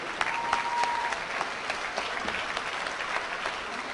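A mushaira audience at a Pakistani poetry gathering in 2010 gives sustained applause to welcome the session's president, a dense, even wash of many hands clapping with a brief tone running through early on.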